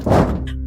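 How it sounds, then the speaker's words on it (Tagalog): A heavy, loud thud on the roof of a house, used as a sound effect in a horror story: one deep booming impact that quickly decays, followed by a faint tail and low hum. "may marinig kaming malakas na lumagabog sa bubong ng bahay."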